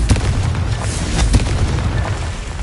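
Confringo fire-spell explosions in the wizarding game Hogwarts Legacy: loud booming blasts, several in quick succession, each giving a heavy low thump with a crackling burst on top.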